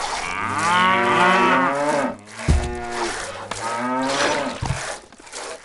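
Cattle in the medieval castle-building strategy game Stronghold moo repeatedly and loudly, long drawn-out bellowing calls with brief gaps between them and no talking over them.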